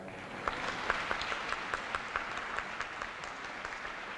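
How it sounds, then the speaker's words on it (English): A room of guests at a Civil Air Patrol awards luncheon applauds the catering staff. The clapping is soft and fairly distant, a steady patter with a few sharper individual claps standing out. "If you give them a round of applause."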